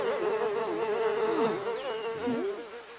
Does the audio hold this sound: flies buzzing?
yes